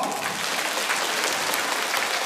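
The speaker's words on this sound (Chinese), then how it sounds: "鼓掌。" Audience applause during a Chinese fortune-telling talk show: a steady, dense wash of clapping that holds at an even level for about two seconds, with no voices over it.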